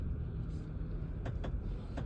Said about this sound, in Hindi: अभी गाड़ी पार्क करने लगा हूँ